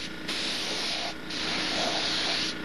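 A high-end precision paint spray outfit hisses steadily and loudly, with two brief pauses in the spray.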